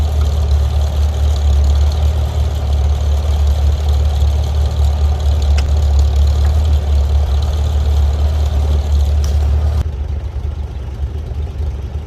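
An International Harvester Super C tractor engine runs steadily at idle, a loud low rumble with a regular governed beat that drops slightly in level near the end.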